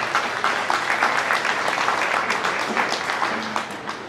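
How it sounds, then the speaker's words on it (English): A crowd at a Holstein and Jersey dairy cattle show gives a warm round of applause, steady, dense and close, tapering slightly toward the end. "Let's give him a nice round of applause."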